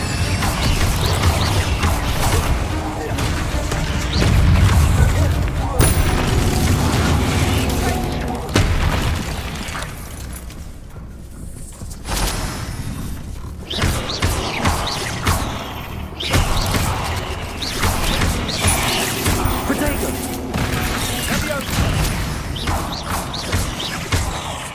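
Booming fire-spell blasts from the Incendio charm in Hogwarts Legacy crash out amid a busy, rumbling fight, with repeated heavy thuds and clatter over a long stretch and a voice speaking at times.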